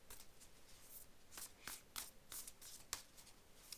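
Oracle cards from a Sacred Traveler deck being handled and shuffled, soft papery flicks and riffles in a few quick bursts, close and quiet with no talking.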